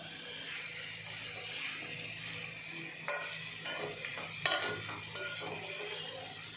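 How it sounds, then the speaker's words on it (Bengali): Chicken pieces being mixed with spices in a pan for chicken curry, giving a steady low sizzle with soft scraping and occasional clinks of a spoon against the pan, no talking. "মশলার সাথে মাংস মেশানোর পরে"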